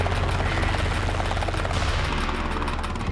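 Loud, continuous rotor thudding and engine roar from a 600-kilogram helicopter approaching to land on the roof of a Skoda Yeti, close by and steady throughout.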